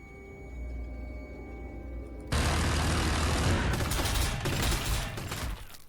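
Gretchin units shooting in Warhammer 40k Sanctus Reach: a quiet hum gives way to a sudden, loud volley of crackling gunfire that keeps rattling for several seconds before cutting off.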